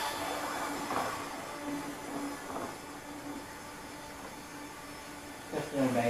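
Model railway trains run along their track, a steady mechanical rolling hum with a faint whine, fairly quiet, with a brief voice near the end.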